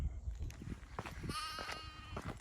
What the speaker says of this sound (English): Just come across this little flock of sheep here.